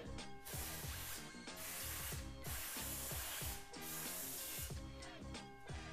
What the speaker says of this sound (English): I'm gonna get some contact cleaner and clean it out